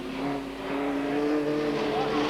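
A TVR Tuscan race car on a circuit in a 1995 race eases off and slows down with a rear-end fault, its engine note holding a steady droning tone and then falling, heard under commentary.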